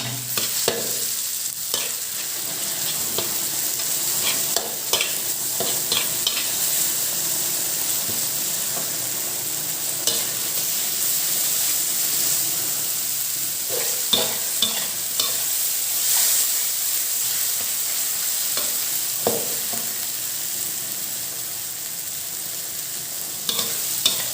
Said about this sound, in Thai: ผัดกะเพราต่อเลยครับผม